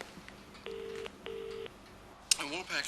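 Push-button telephone tones sound as a number is dialed: two clear, even beeps, each lasting about half a second, followed by a short electronic chirp as the line connects. The tones are played in a British domestic drama from 1992.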